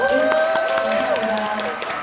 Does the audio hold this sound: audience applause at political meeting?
yes